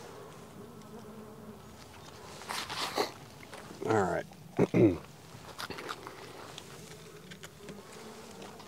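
A low, steady hum of many honey bees buzzing close by as they are scraped off a hive frame with a measuring cup, with a few louder scraping and handling noises and a brief spoken remark.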